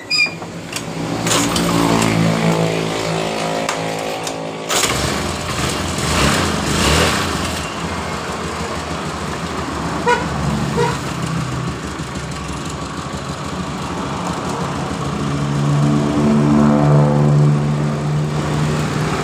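A Honda Beat scooter with a hesitating, sputtering fault on initial acceleration starts and runs close by, its small engine idling steadily with a buzzing drone and brief revs throughout.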